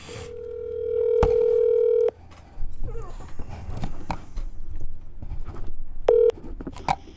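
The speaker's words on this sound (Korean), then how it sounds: "전화 연결할게요." A telephone dial tone sounds while a phone call is being connected, with a long steady tone lasting about a second, then a second short tone burst later. Faint background noise runs throughout.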